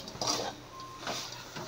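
Fried dates and dry fruits stirred in a pan over a medium flame, a few soft scraping and clinking touches of utensil against the pan, quiet and close, with brief pauses between strokes.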